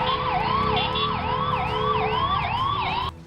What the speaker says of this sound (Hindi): एम्बुलेंस ड्राइवर लगातार सायरन बजाते रहे ताकि उन्हें आगे जाने का रास्ता मिल सके।